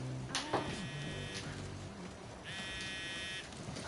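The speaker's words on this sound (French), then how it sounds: "C'est un téléphone?" A phone buzzes on vibrate from an incoming call in a video game, two sustained electronic buzzing bursts separated by a pause, over a low background hum.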